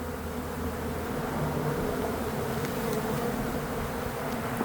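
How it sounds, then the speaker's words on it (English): Honey bees swarm around an opened hive being split, a dense, continuous buzzing drone close by, steady and loud with no talk over it. "Lots of bees on Charlie."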